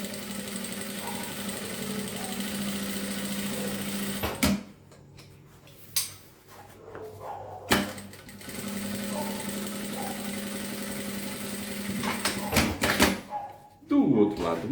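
A sewing machine runs a safety seam around the fabric lining of a toiletry bag in a long, steady, close whir, then pauses and starts again, while someone talks over it.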